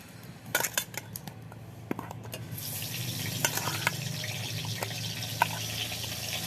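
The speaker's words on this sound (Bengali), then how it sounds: "এখন আমি পটলটার এই পটল ভাজবো এখন" Pointed gourd (potol) pieces hitting a hot pan set off a rising, steady sizzle after a few clattering knocks of a spoon against metal cookware, with scraping and stirring underneath; no one speaks.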